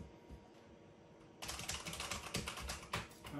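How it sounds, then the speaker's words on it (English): Keys clatter on a Just CPC 2 computer's keyboard: after a quiet start, rapid close-up typing begins with irregular clicks and a few louder strokes, likely the enter key. "All right, I'm typing."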